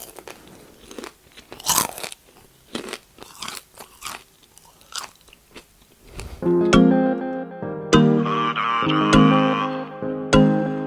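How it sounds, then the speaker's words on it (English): Sweet and salty popcorn crunches and is chewed up close in quick, crisp bites for several seconds, then music with a beat takes over. "This popcorn, amazing. It's so good. A perfect mix of sweet and salty."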